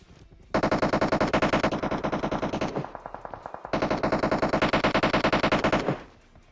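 Video game machine-gun fire in two long sustained automatic bursts, loud and close, separated by a brief pause, with no talking over it.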